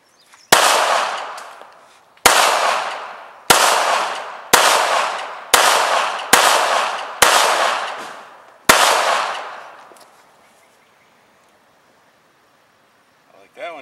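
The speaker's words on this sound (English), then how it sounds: "Don't worry if it shoots behind you. It's one of them secret agent guns." Eight loud, sharp bangs from a novelty gun ring out one after another at roughly one-second intervals, each followed by a long fading rumble, before quiet returns.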